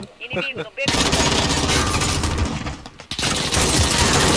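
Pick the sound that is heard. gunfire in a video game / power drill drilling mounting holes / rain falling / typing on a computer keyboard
gunfire in a video game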